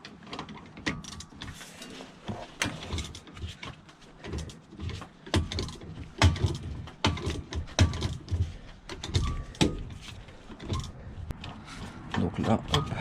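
A bolt is slowly loosened on a Ford Fiesta Mk3 shock absorber, giving close, repeated ratcheting clicks and metallic knocks in an irregular rhythm while someone talks throughout.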